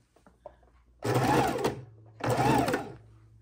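A sewing machine stitching a seam on a scrappy log cabin quilt block, two loud bursts of rapid whirring, each about a second long, separated by a short pause, with a few faint handling clicks before the first.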